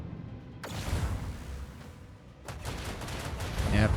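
Naval gunfire in a ship combat video game, low booming salvos with rumbling tails, one burst early and another a couple of seconds later, fairly quiet and muffled.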